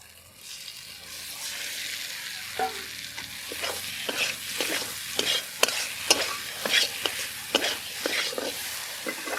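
Masala-spiced flat beans (sheem) frying in a pan, stirred with a string of sharp spoon scrapes and clicks over a soft crackling sizzle, close and moderately loud, with no voices.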